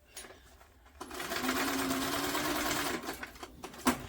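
A sewing machine stitches over a seam on a tote bag in one sustained run of about two seconds, with quieter handling clicks and taps before and after.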